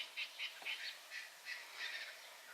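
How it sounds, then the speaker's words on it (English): Birds in the Namibian bush give repeated short, bright calls in quick bursts, fairly close and clear over a quiet background, with no talking. "You listen to the birds."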